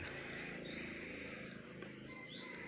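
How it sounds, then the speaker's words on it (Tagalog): A black-naped oriole calls outdoors in Barangay Togong, Banton, Romblon, giving faint, brief rising whistled notes at a distance over a continuous hum of insects. "Ibong Kilyawan."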